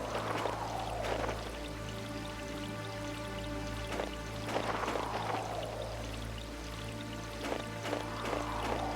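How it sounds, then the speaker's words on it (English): Running water in the video game Mizzurna Falls, a continuous pouring stream with bright splashing surges over a low, steady hum of background music. "The sound of that running water."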